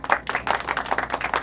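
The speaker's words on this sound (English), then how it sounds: "Give yourself a round of applause." A group of people claps together in lively applause at an indoor church life-group gathering, a dense, steady burst of many hands sustained throughout.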